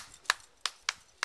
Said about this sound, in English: That's how we ended up with this hand clap.